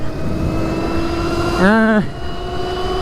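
A Sur Ronster electric bike runs at full throttle in sport mode, giving a steady high motor whine throughout, with a short tonal vocal sound rising and falling around the middle.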